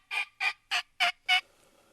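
A wild turkey call sounds during a turkey hunt: five loud, close, evenly spaced clucking yelps in quick succession, then quiet, with no voices.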